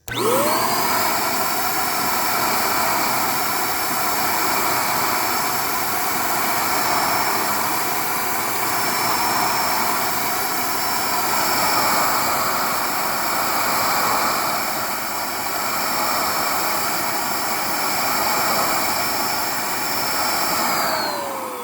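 Liberty corded 550-watt HVLP paint sprayer spraying paint onto cardboard, a steady loud turbine whine and rushing airflow that runs continuously and close-up, with no speech.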